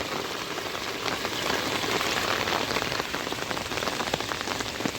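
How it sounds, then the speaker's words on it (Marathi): Steady rain pattering on a surface, dense and continuous with individual drops ticking through, fairly close and with no voices. "बघा पाऊस पुन्हा मित्रांनो चालू झाला आहे"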